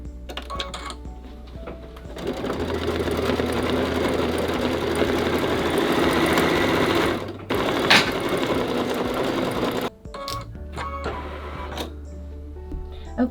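An in-the-hoop machine embroidery machine stitching small hearts on a banner, a steady, loud, rapid mechanical whirr and needle clatter running for several seconds, then stopping with a few clicks.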